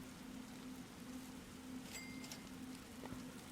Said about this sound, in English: especially as it's now raining, so the fire obviously goes down a bit quicker while it's raining